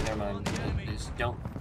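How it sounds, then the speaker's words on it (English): Video game grenade explosions burst close by in quick succession, three sharp blasts within about a second, with a voice talking over them. "I just got triple naded"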